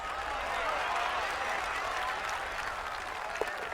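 A large golf gallery at the Masters erupts in sustained applause and cheering after a long birdie putt on the 17th, the clapping loud and dense throughout, with a commentator's voice over it.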